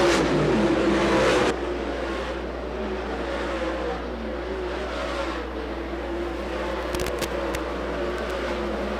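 Late model race cars roar around a dirt oval at the Keystone Cup A Main, a steady engine drone with a louder burst at the start and brief crackles later.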